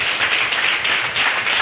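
A church congregation claps together in a steady, dense wash of hands, loud and continuous with no voices standing out.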